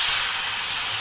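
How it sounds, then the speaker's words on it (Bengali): Ground spice paste hits hot oil already tempered with a dried red chilli and whole cumin for banana flower kofta curry, giving a loud, dense, steady hiss of sizzling with no speech. "এখন গলে রাখা মশলাটা দিয়ে দেব"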